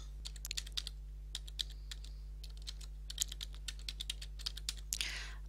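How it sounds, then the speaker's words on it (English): Fingers type an email address on a computer keyboard, producing quick, close, light key clicks in short bursts with brief pauses over a low steady hum. "To log in to Safe, you type in your email address,"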